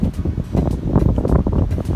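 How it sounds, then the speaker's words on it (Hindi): Strong wind blows outdoors near water, buffeting the microphone with loud, continuous low rumbling gusts and irregular surges throughout, with no other sound. "बहुत हवा चल रहा है।"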